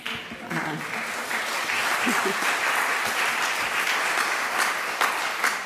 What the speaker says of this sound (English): you can give the same applause to Sulma herself